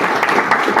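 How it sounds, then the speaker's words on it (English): Brief burst of audience applause after a talent pitch, dense steady clapping without a break and no speech over it. "Just a round of applause."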